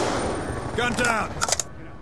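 In Black Ops 2 multiplayer gameplay, a rapid burst of weapon fire sounds over busy game background noise, with a few sharp shots near the end.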